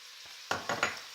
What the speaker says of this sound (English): Now that the meat has started browning, add in all the other dry ingredients